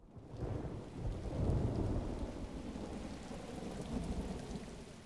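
Rain and stormy weather with a deep rumble of thunder swelling early and then settling into a steady wash of rainfall, faint and distant, with no voices.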